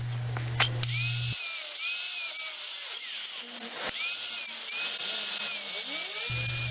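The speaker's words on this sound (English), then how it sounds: "I used the angle grinder from the back of the disc." Angle grinder cutting into the back of a seized Ford Transit front brake disc, a loud continuous high metallic whine running steadily for several seconds after a brief low hum at the start, with small shifts in pitch as the cut bites.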